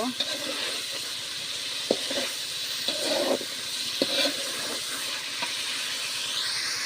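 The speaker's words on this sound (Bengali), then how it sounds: "একটু কষিয়ে নেব এই যে মাছ দিয়ে দিয়েছি মাছগুলোকে একটু কষিয়ে নিয়ে ডাল দেব" Rohu fish head pieces sautéing in a pan, a steady broad sizzling hiss with a few soft clinks and stirring knocks scattered through, heard close and moderately loud.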